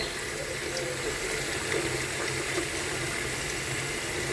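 Mung bean sprouts being washed under running tap water in a kitchen sink, a steady broadband splashing and flowing that stays even and fairly close throughout.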